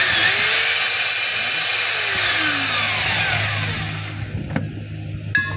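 A DeWalt D25133 rotary hammer runs in drill mode with a loud, steady high-pitched whine that winds down as the motor slows, followed by a few clicks and handling taps.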